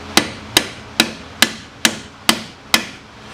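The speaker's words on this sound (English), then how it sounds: "Take a hammer." Seven sharp, evenly spaced hammer blows ring out close by, roughly every half second, while replacing the front strut and control arm on a 2008 Pontiac Grand Prix.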